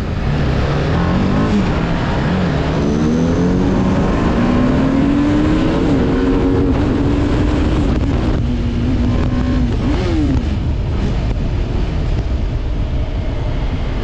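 A TVS Apache RR 310 sports motorcycle engine drones loudly and steadily, its pitch climbing and wavering as it revs, amid constant rushing wind noise, with no talk.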